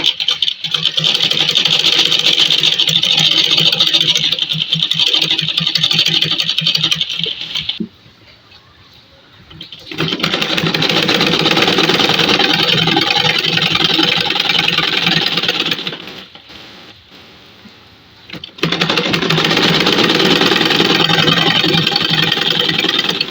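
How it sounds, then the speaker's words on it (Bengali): A sewing machine runs loud and close, rattling in long continuous bursts as it double-stitches pleats into a salwar, with two brief quiet pauses between stretches of rapid mechanical stitching. "পুরোটা ডবল সেলাই করে নিলাম কুচি দিয়ে।"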